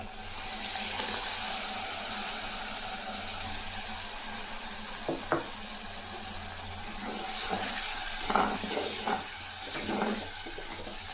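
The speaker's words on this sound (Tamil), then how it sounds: "இது கொஞ்ச நேரம் பொரியட்டும்" Fish curry with tamarind and tomato water added cooks in a village-style pan, giving a steady hiss with occasional soft pops and bubbling bursts, continuous and close throughout.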